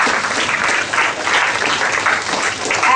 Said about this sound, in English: So big round of applause once again.